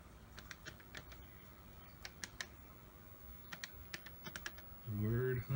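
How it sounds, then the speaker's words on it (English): Fingers tapping out quick, uneven bursts of light clicks on a TRS-80 Color Computer keyboard, close and quiet, before a voice briefly starts talking at the end. "This keyboard is like typing on a calculator."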